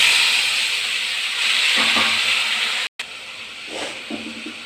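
Boiled vegetables are poured into jute leaves frying in a pan, setting off a loud, steady hiss of sizzling that cuts out for a moment and then resumes with a few soft stirring knocks.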